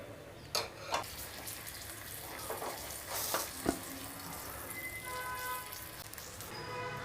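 Bread slices toasting in butter on a hot pan for a vegetable cheese egg sandwich, giving a steady close sizzle with a few sharp crackles and clicks.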